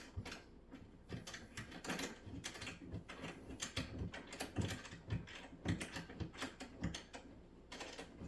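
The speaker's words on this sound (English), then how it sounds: "And then using the tool, you tighten it up." Fittings on an IKEA LANGARYD couch are tightened with the assembly tool, giving a steady run of close, rapid ratcheting clicks and small mechanical rattles that continue throughout without any talk.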